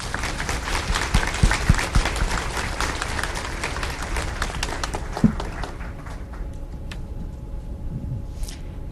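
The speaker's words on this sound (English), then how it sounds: "please join me once again in a round of applause for them" An audience at a city's State of the City address claps steadily, then the applause thins and fades out toward the end.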